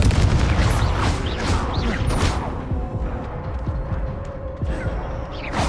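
A fiery blast spell in the Hogwarts Legacy video game erupts with loud, booming, crackling bursts amid ongoing combat noise, fading slightly toward the end.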